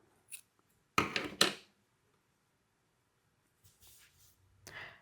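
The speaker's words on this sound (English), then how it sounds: "Go ahead and cut your yarn." Scissors snip through crochet yarn twice in quick succession at close range, followed by soft handling rustles, with no talking.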